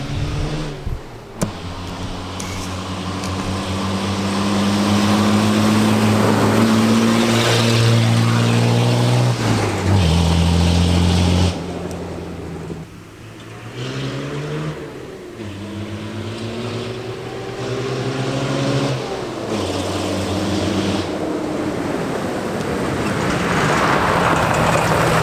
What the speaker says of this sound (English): this is Liam's Nissan Patrol with half the exhaust still attached